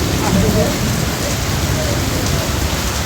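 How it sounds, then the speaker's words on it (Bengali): Dense heavy rain falls in Malaysia as a constant close hiss of drops hitting surfaces, with a faint low rumble beneath and no break in the steady roar. "বৃষ্টির কারণে আটকা পড়ছি"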